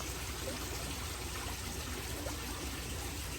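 Water draining from a crayfish pond through a bell siphon, a steady continuous rush and trickle of flowing water, close and fairly loud with no voices.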